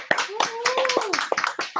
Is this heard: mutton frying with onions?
no